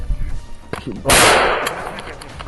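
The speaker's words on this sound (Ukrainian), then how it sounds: "Почали стріляти, туди прострілювали" A single sharp gunshot cracks at close range during a combat firefight, loud and sudden with a short decaying tail, after some quieter rustling and movement.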